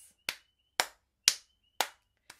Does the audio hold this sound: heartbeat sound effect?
no